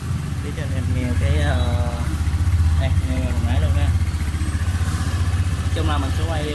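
A Thai-market Honda Air Blade scooter idles with a steady low engine drone and faint clatter, close by, while someone talks over it throughout.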